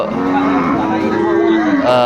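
Several cattle moo loudly and close by at a cattle market selling Sahiwal bulls and calves, drawn-out lowing calls overlapping against a busy crowd murmur.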